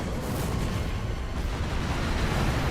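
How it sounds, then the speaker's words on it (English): An explosion during a boss fight in the video game Dark Souls 3, heard as a continuous, loud, rumbling roar that fills the whole moment without clear breaks. "As the explosion's going"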